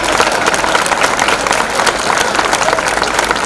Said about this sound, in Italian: Ringrazio i nostri angioletti, per loro vi chiedo un applauso